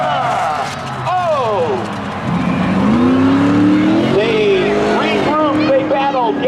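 Race cars in a spectator drag race at Seekonk Speedway roar past loudly, engines rising and falling in pitch as they accelerate and pass by in close succession, while an announcer talks over the track noise.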